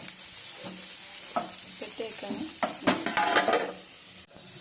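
Capsicum fries in oil in a pan, giving a close, busy sizzle broken by stirring scrapes and light clinks of a utensil against the pan.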